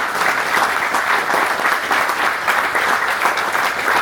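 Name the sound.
audience applause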